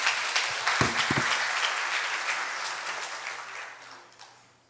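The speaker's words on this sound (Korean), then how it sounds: "나오실 때 박수로 환영해 주시길 바랍니다." At a Friday church evangelism gathering, the congregation applauds presenters coming forward, a crowd of clapping with a few louder close claps early on, fading steadily toward the end.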